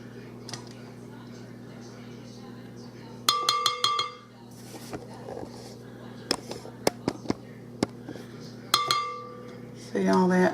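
A wire whisk clinks and taps against a glass bowl while freshly made butter is worked off it, with sharp bursts of metallic ringing between quiet pauses and a final run of scraping.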